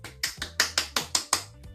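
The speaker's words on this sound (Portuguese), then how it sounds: "pode bater palmas." Children clapping at the end of a story, a handful of sharp, separate claps coming in a loose, uneven rhythm, close and moderately loud with no talk over them.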